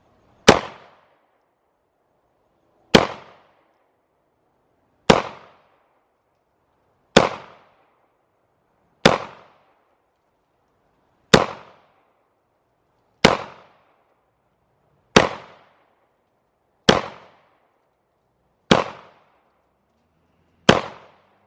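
Single shots from a CZ 75 P-01 pistol crack out at an outdoor range, eleven sharp, loud reports spaced roughly two seconds apart, each decaying quickly into near silence.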